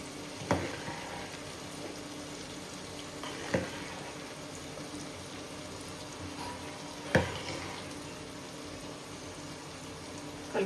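Tomato sizzles quietly in a pan, a low steady frying hiss with a few sharp clinks of a spoon stirring at intervals, no voices.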